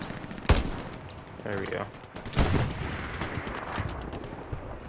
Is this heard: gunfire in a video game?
yes